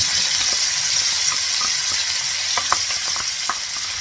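Chicken hearts and onion frying in a pan for a goulash, a steady dense sizzle throughout with a few light stirring clicks and pops scattered over it, close and fairly loud, no talking.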